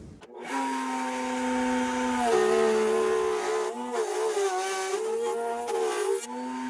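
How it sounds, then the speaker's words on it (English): A heat gun runs steadily while it heats a piece of material to bend it for a deck picture frame. Its fan motor gives a continuous whine, and the pitch dips and shifts slightly partway through. "The heat gun is heating up."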